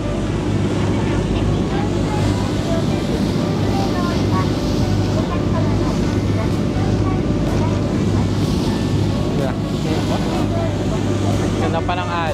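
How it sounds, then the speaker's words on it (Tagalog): Sea waves rush past a boat crossing a short stretch of water in Japan, a constant loud wash of water and wind buffeting the microphone, with a voice talking over it. "Ganda pa ng alon."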